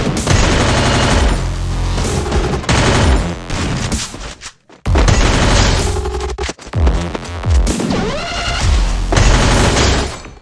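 Dense, nonstop automatic gunfire from Free Fire mobile gameplay, loud rapid bursts stacked with booms and crashes, dropping out briefly near the middle before resuming at full intensity.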